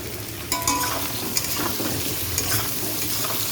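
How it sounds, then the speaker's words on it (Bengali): Onion, taro and potato sizzle in a hot pan, a loud steady frying hiss broken by scraping stirs and a few sharp clacks of the spatula against the pan. "পেঁয়াজটা একটু ভাজা ভাজা হয়েছে আলু কচুটাও দিয়ে দিলাম"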